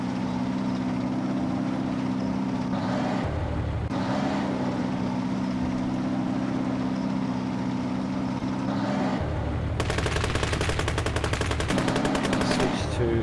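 Rapid machine gun bursts in the Gates of Hell WWII strategy game with a British faction, staccato rattling fire dominating the final seconds over a steady low engine drone and battle ambience.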